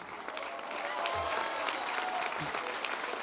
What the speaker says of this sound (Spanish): Vamos a darle un aplauso al gobernador Miguel Barbosa,